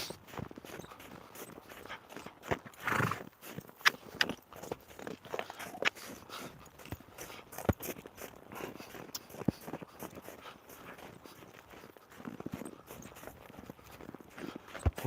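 A horse steps off and walks on soft ground, giving a faint, steady series of muffled hoof thuds and clip-clops with occasional creaks of tack, heard close under a quiet background.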